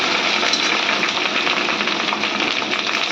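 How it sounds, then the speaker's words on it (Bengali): Fish roe frying in hot oil in a home kitchen, a dense, continuous sizzle and crackle that stays loud and even throughout, with no voices. "তেলের মধ্যে ডিমগুলো দিয়ে দিলাম,"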